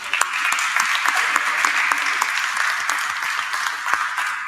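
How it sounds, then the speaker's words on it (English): Audience applause for the panelists at the close of a generative AI panel session at a conference, a steady wash of many hands clapping filling the room, with a few louder individual claps standing out. "we need to give a clap, a big hand to all the panelists"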